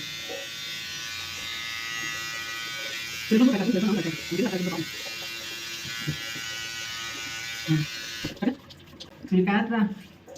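An electric hair trimmer buzzes steadily at close range while cutting hair on its number six guard setting, with people talking over the hum, and it cuts off shortly before the end.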